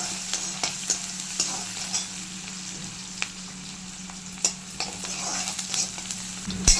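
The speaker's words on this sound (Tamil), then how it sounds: "கார குழம்புக்கெல்லாம் வந்து நல்லா கோல்டன் ஃப்ரை ஆகணும் வெங்காயம்" Sliced onions frying golden in hot oil for Tamil kara kuzhambu, a steady soft sizzle broken by scattered stirring scrapes and clicks, close and moderately quiet with no voices.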